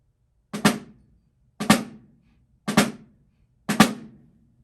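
Four evenly spaced snare drum strokes, each a soft grace note followed immediately by a louder main note played with one hand, crisp and close with short ringing decays and quiet gaps.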